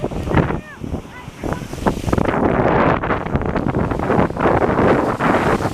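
Waves crash and splash against the shore at Bay Shore Park, New Franken, Wisconsin, amid gusting wind, with brief voices near the start before the surf swells louder.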